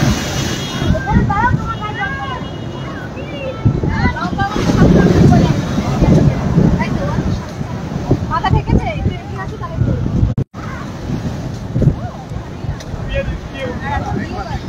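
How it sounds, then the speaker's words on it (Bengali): Cyclone Remal brings heavy rain and strong wind to Digha beach. Gusts buffet the microphone, surf rumbles nearby, and voices talk over the noise of the storm. "বৃষ্টিটা এবার জোর শুরু হলো।"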